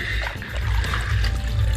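Water runs loudly and continuously while a sports air filter from a Honda Pop 110i motorcycle is rinsed and moved back and forth, giving a close, splashy gush with low rumbling.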